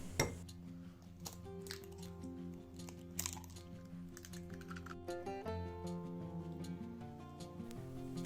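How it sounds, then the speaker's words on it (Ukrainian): Rapid, steady clicking of a whisk beating two eggs with sugar in a bowl for pancake batter, running continuously under background music. "Додаємо 3 ложки цукру та збиваємо 2 яйця"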